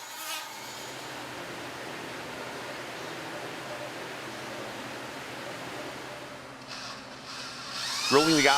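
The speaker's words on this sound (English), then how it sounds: "Drilling the eye hole with a specialized bit." A specialized bit drills an eye hole in a carved wooden scoter decoy head, giving a steady high-pitched whine that runs close and continuous, then shifts near the end.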